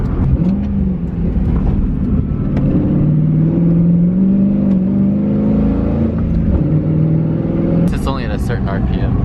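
A car engine revs and drones steadily at close range from inside the cabin during a final test drive after repairs, the pitch rising and falling with the RPM, and a voice briefly talks over it near the end.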